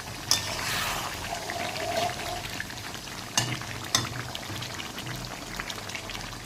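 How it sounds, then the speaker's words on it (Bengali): Water poured into chicken curry cooking in a pan, with a brief splashing pour over steady frying sizzle and a few sharp clinks of utensils, close and without talk. "কিন্তু জল একটু দেবো, অল্প করে দেবো।"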